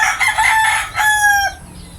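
A young McLean Sweater gamefowl rooster, about three months old, crows twice close by, a rough first call then a cleaner, higher drawn-out crow, with quiet background afterward.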